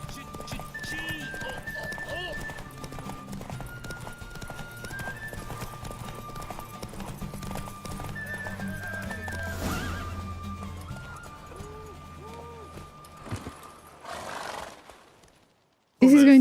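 Roach the horse gallops with rhythmic clip-clopping hooves during a race in The Witcher 3: Wild Hunt, breaking into loud neighs and whinnies midway, while someone talks over much of it before a sudden silence and an abrupt burst.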